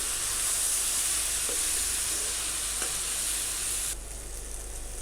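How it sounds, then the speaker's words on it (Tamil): Raw banana masala fries in a pan with a steady, loud sizzle and hiss that continues throughout, easing slightly near the end, with no voices. "நான் இப்போ வந்து இது ஒரு 2 minutes நல்லா ஃப்ரை பண்ணியிருக்கேன்"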